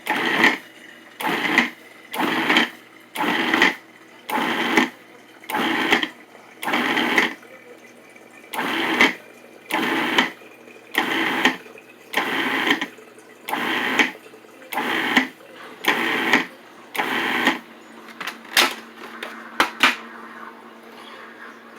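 A food processor pulses butter into biscuit dough in short whirring bursts, about sixteen evenly spaced blips with brief pauses between, close and fairly loud, ending with a few clicks.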